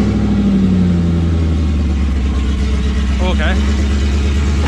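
An LS1 V8 swapped into a Nissan Patrol idling loud and close, a deep steady rumble with slight revving, while a person speaks briefly over it.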